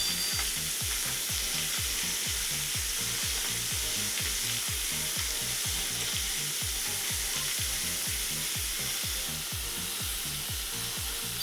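Chicken pieces searing skin side down in a hot pan, rendering fat with a steady, close, dense sizzle and crackle that holds throughout without any talk.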